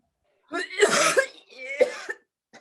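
Two harsh, drawn-out coughing fits with a gagging, retching quality, close by, followed by a short faint sound.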